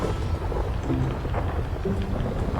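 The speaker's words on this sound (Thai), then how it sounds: "เอาแบบฝนตกฟ้าร้อง" A thunderstorm in GTA 5 brings steady rain and a low rolling rumble of thunder that fills the whole short stretch, with no voices.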